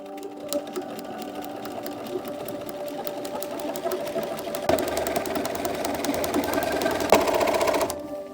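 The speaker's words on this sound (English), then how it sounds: "sew all the way around where we just pinned, and we will understitch the lining afterwards" A sewing machine stitches steadily around a pinned cloak lining, its rapid mechanical whir and needle clatter running continuously and growing slightly louder toward the end.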